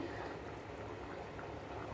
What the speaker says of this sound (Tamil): ஒரு கொதி வரட்டும். நல்லா கொதிக்குது.